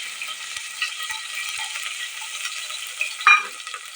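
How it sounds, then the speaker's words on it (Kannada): Ingredients frying in a home kitchen pan for a pea rice bath, a steady soft sizzle throughout with a brief louder clatter near the end, no talking. "ಇದನ್ನು ಫ್ರೈ ಮಾಡ್ಕೊಳ್ತಾ ಇದ್ದೀನಿ."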